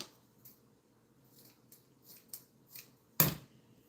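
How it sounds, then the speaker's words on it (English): Scissors cutting off the end of a knotted cord in a craft session, heard as several faint soft snips followed by one louder, crisp closing cut near the end, with no talking. "Now I'm going to cut this end off. And I'm going to cut this end off."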